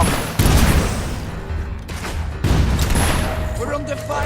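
Gunfire in the video game Fable 3, two heavy close volleys of booming shots with crackling tails, loud and sharp, with battle chatter around them.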